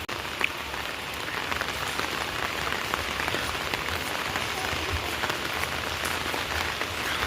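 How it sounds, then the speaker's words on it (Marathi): Heavy monsoon rain pours down in Dharampur, a dense, steady hiss and patter of drops on surfaces that stays constant throughout. "सध्या 4 दिवस झालं धरमपूर एरियामध्ये खूप पाऊस पडतो आहे"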